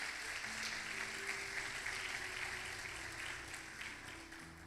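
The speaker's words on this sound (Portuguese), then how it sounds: "Vamos aplaudir a Ele, que Ele é bom." Congregation applauding in a church during a Portuguese-language sermon, a steady, dense wash of clapping that carries at even loudness throughout with no voices over it.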